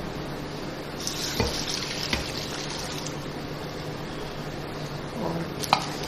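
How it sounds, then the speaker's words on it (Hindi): Two glasses of water are poured into a cooking pot of nalli pulao with meat and spices, a steady liquid splashing flow that runs throughout, with a few clinks and taps on top. "अच्छा, ये 2 गिलास भर के मैं पानी डाल रही हूँ मैं।"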